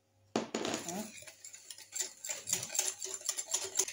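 A whisk beats eggs and sugar in a bowl for Batna-style bread, producing quick, uneven metallic clinks and taps close by after a sudden start.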